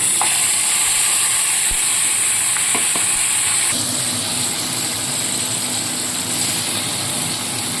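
Onion paste dropped into hot oil with a bay leaf and three dried red chillies, giving a loud, close, continuous sizzle with a few sharp pops and clicks, the hiss shifting as the paste goes in.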